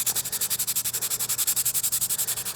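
Hand sanding of filler on a 3D printed Oblivion blaster prop makes fast, even back-and-forth rasping strokes. About ten strokes per second, close and steady, with no voices.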